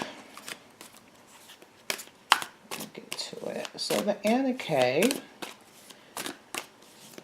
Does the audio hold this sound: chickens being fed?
no